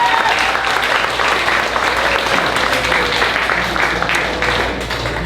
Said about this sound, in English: let's have a big round of applause for our judges